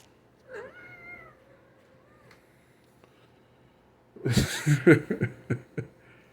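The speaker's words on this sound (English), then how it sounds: "listening to this male cat carry on, he's doing what they call caterwauling" A male cat caterwauling: a soft, drawn-out yowl near the start, then a loud burst of harsh, wavering wails and yowls in quick succession toward the end.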